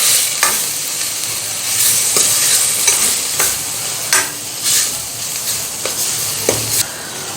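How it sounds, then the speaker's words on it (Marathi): Onion-garlic masala stir-fried in a pan, a steady sizzle broken by repeated scraping strokes of a spoon against the metal, close and fairly loud with no voices. "आता हे व्यवस्थित परत एकदा दोन मिनिटे छान परतून घेऊयात"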